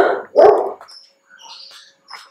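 Dogs barking indoors: two loud, close barks open the sequence, followed by quieter, higher yips and whimpering sounds trailing off over the next couple of seconds.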